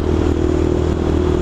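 A motorcycle engine, likely a Phaser, drones loud and steady at close range for a brief moment, with no voices over it.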